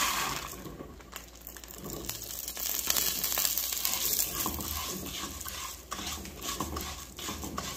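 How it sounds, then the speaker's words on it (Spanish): Dry pasta toasting in a pan for a green fava bean soup, stirred with a utensil that rattles and scrapes the pieces in a continuous busy crackle, close and moderately quiet with no voices. "Ya voy a dorar la pasta."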